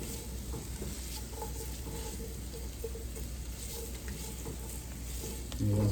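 Carrots, bell peppers and onions sizzle in a pan over medium heat for braised oxtails, a steady, dense crackling hiss that runs unbroken throughout, with a brief thump near the end.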